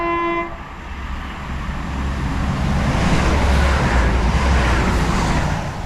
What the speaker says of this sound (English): it looks like we do have a passing train